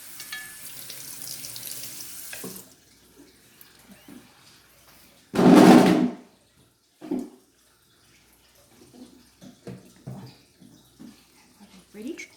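A running kitchen tap while a child washes hands at home: a short burst of water at the start and a louder gush in the middle, with quiet voices talking in between.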